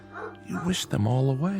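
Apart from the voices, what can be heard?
dog barking, collie, radio drama sound effect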